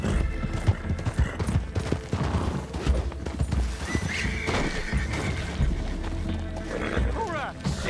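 A horse whinnies amid clopping hooves and busy game-like sound effects in Red Dead Redemption 2 on PS4, with occasional bursts resembling gunfire in the background.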